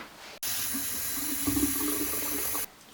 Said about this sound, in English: Put it in a bit of hot water or warm water just so it starts blowing back out